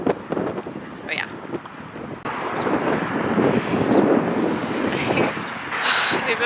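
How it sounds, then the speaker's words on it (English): Wind gusts buffet the microphone outdoors on a walk to a beach, a rushing, uneven roar with a few brief background sounds. "Nice and windy, so that it's not too hot."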